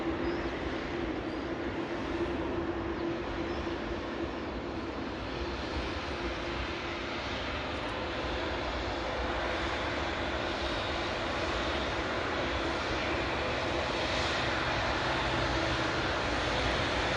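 An Air Canada airliner at Edinburgh airport makes a steady, loud jet-engine roar with a broad rushing rumble that swells slightly toward the end, with no talk.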